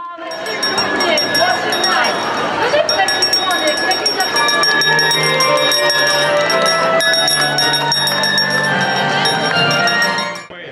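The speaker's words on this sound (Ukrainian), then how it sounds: "Пролунав і традиційний символічний дзвоник." A ceremonial school bell rings continuously with bright metallic overtones at an outdoor school assembly, held steady for several seconds amid crowd noise and a loud outdoor backdrop.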